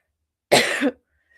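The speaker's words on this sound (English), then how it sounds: "I will say I have to cough again." A single loud, harsh allergy cough bursts out close by, lasting about half a second, with silence before and after.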